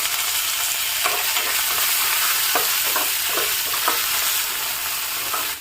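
Dried red chillies and curry leaves sizzle in hot oil for a snake gourd curd chutney, with a continuous close frying hiss and several spoon-stirring scrapes, ending abruptly; no speech.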